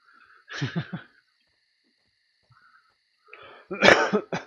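Two bursts of coughing from a person at a computer, close to the microphone, each a short cluster of rough hacks separated by near silence.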